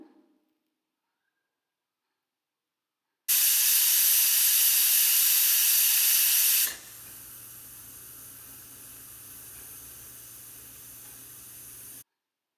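After silence, a loud sharp hiss of steam bursts from a pressure cooker on a medium flame for a few seconds, then drops to a quieter steady hiss that runs on before stopping abruptly.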